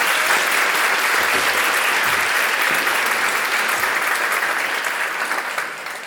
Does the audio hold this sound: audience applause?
yes